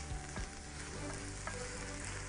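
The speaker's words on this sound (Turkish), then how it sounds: "Şöyle azıcık karıştırayım. Ufak ufak terlemeye ve pişmeye devam etsin." Sliced zucchini sautéing in a pan, a steady close sizzle and crackle with light scraping as a spoon stirs it, no talking.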